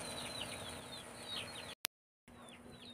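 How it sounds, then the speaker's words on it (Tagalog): Chickens cluck repeatedly at a Philippine family house, soft clucks and short calls over a steady rural background, cut by a brief dropout and then resuming faintly. "Manok na."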